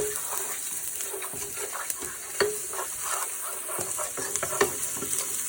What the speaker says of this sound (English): there is the garlic added in the pan. You want to mix that around until it gets brown and fragrant